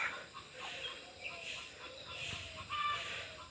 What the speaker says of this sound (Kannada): ನೋಡಿ ಇವು ಗಿರಿರಾಜ್ ಕೋಳಿ